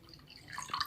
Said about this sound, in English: So now I will pour it in the glass.